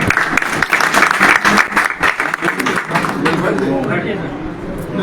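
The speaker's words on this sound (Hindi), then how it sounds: "एक बार खुशबू के लिए जोरदार तालियां" A crowd claps loudly at the opening of a political party's state office in Patna, a dense burst of applause that fades within a few seconds as a voice begins speaking over the tail.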